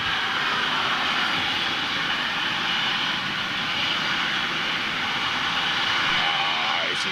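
A United jet airliner, formerly Continental, with Rolls-Royce RB engines roars steadily and loudly throughout, a continuous broad engine rumble and whine with no pauses.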